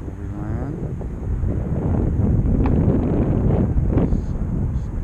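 Gusty wind buffets the microphone outdoors while an E-flite F-15 Eagle RC jet is flown, making a steady, loud, rumbling roar that swells after the first second and holds.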